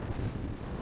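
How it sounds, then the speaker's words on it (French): Strong wind on a mountain summit at Pic de Piméné in France buffets the microphone in a loud, continuous low roar with no voices. "il y a tellement de vent que là, c'est trop dangereux là"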